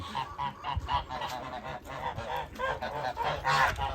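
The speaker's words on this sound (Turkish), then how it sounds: "Kazlar." A flock of geese honking, with many loud calls overlapping in a steady, busy chorus.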